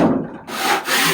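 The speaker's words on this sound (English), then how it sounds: "I'm going to scrape them off real quick." A tool scrapes bark off a hard maple log in two short, rough, close strokes of wood rasping against wood, loud and without talk.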